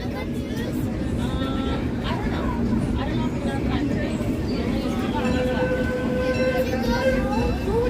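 Disneyland's steam train rolls along its rails, giving a steady, continuous rumble and rattle of the cars throughout, with some background chatter from riders.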